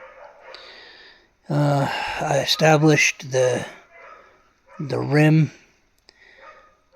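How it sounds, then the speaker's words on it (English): Dogs at a neighboring kennel barking and yipping in the background, somewhat distant, under and between a man's close speech. "Sorry about the dogs."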